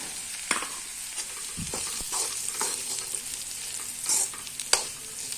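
Crushed peanuts are stirred into a frying pan for sabudana khichadi over a low flame: a steady soft sizzle broken by scraping stirs and light clinks of the spoon.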